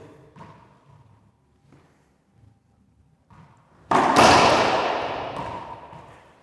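Racquetball shots strike the court walls during a veterans' training rally, with a few soft thuds and taps early on, then one loud, sharp impact that rings and echoes through the enclosed court before slowly fading.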